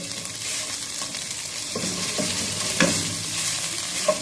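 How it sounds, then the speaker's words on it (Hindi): Ginger garlic paste frying in a pan, a steady close sizzle broken by a few soft scraping stirs, with no talking. "अदरक लहसुन हमारा हो गया फ्राई।"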